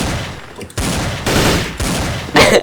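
Desert Eagle pistol shots in the video game First Blood, several loud, abrupt blasts in close succession, each followed by a sustained noisy tail, with little talk.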